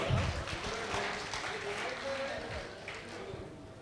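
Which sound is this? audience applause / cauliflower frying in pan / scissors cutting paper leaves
audience applause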